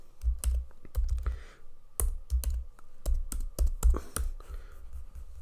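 Someone types code on a computer keyboard while writing Python for Jira automation, with irregular clusters of crisp keystrokes close to the mic and no talking.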